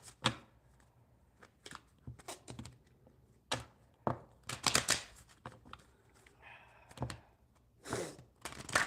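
Crisp papery riffling in short bursts, tarot cards being shuffled close by, with quiet pauses between each run of flicks.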